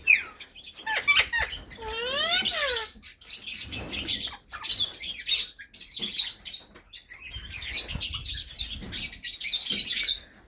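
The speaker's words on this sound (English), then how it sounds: "All the birds are nice and they're different." Pet parrots and other caged birds call and chirp close by, with rapid repeated whistles, squawks and rising-falling trills in busy overlapping bursts throughout.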